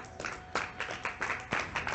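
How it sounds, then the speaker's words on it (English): A man claps his hands for himself, about eight quick, close claps in a steady rhythm over two seconds. "I'll clap for myself"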